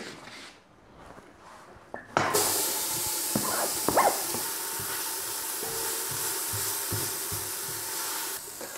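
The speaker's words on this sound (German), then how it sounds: "Dann kommt die Butter in den Topf und die Zwiebeln." Butter and onions go into a hot pot for a creamed savoy cabbage dish. A brief quiet clatter gives way to a loud, continuous sizzling hiss that holds steady to the end.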